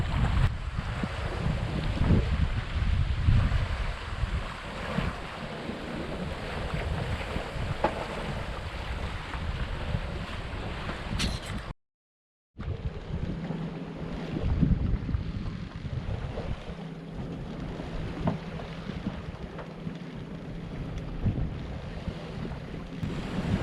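A sailboat moves through shallow water where the ocean swell has been flattened, with steady wind buffeting the microphone and a continuous wash of water along the hull, broken by a brief dropout midway.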